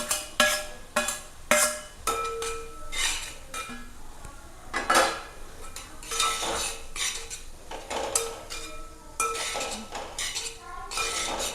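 A metal spoon stirs grated coconut and spices in a pan while semiya upma is being cooked, making irregular clinks and scrapes against the pan, some sharp and close, with short pauses between strokes.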